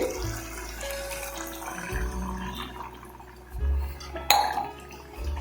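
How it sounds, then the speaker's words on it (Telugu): Water pours and splashes into a metal pot of mutton and chana dal curry in a few bursts, with a clank of cookware near the end; close, no talking. "ఇందులోనే వాటర్ పోసేసుకోండి"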